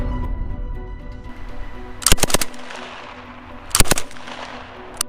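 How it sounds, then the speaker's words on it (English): A Krumlauf STG-44 curved-barrel assault rifle firing two short, loud bursts of rapid automatic shots, several seconds apart, with a low hum and ringing between them. "The Krumlauf STG-44 Assault Rifle."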